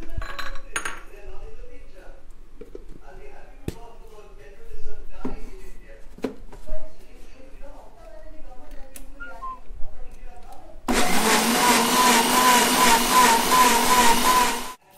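A few dish and cutlery clinks come first; then a kitchen blender switches on, mixing a thick mango milkshake with a loud, steady whir that runs to the end.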